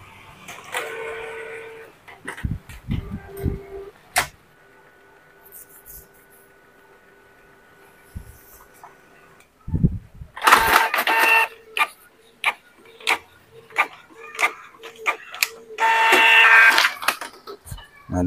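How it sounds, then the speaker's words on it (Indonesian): A Canon printer runs a manual nozzle check page with no computer attached, giving a steady mechanical whir. Sharp clicks and a burst of louder, rhythmic feed and carriage clatter follow. "Kita tunggu proses pengeprintannya."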